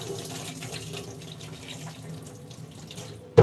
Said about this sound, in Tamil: நல்லா வாஷ் பண்ணி எடுத்துக்கோங்க ஏன்னா இது ரேஷனில் போட்டதுனால தூணும் முக்கியமாக இருக்கும்